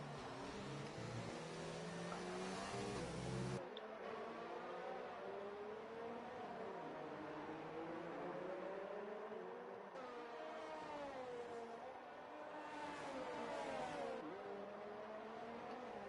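F1 race car engines in F1 2019 whine at high pitch, rising and falling with gear changes as several cars race past at the Brazilian Grand Prix, steady and fairly loud throughout with no talk.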